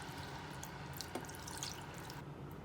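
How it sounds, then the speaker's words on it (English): Water pouring into a cooking pot over pork neck bones for a stew, a steady faint splashing and trickling with a few drips, heard alone at low level. "I'm just going to pour my water all in there, over it, just like that."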